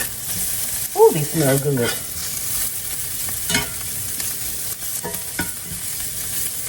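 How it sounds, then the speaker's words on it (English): Honey glazed brussels sprouts frying and charring in a pan, a steady soft sizzle with occasional stirring scrapes, heard close under a brief spoken comment. "Now we're going to let them char just a little bit more on whatever side that they're on"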